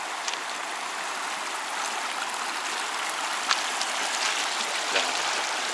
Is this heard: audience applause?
no